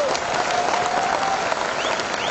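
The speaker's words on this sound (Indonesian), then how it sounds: "Ayo beri aplaus kepada kawan-kawan daerah." A crowd at an Indonesian Labour Party rally applauds, with dense continuous clapping at steady loudness throughout and a faint voice drifting over it.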